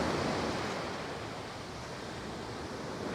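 Continuous roar of ocean surf crashing against a rocky, boulder-strewn shore at a remote beach in General Nakar, Quezon, loud and steady with a wind-like hiss and no voices.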